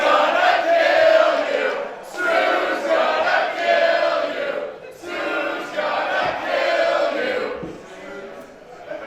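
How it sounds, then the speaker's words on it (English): Wrestling crowd at an independent Prestige Wrestling event chanting loudly in rhythmic, repeated phrases, dense voices swelling and dipping across the arena with brief gaps between chants. "The crowd declaring that Sue may be doing some murder tonight. Put her in a body bag!"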